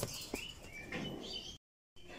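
Baby Belgian racing pigeons, an Afsan grizzle pair, chirp in thin, high squeaky peeps, several short calls in quick succession, close by with a brief dead gap before more chirping.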